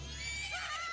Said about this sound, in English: Link just fell off his horse.